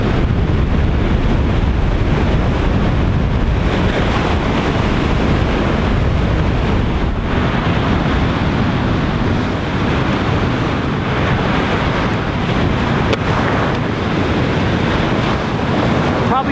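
Wind buffets the microphone while ocean surf rolls continuously at Pescadero State Beach, a loud, unbroken roar of breaking waves and gusts lasting the whole stretch.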